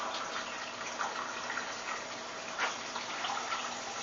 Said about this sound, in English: But I'm running it under some cold water, and I'm squeezing the whey out.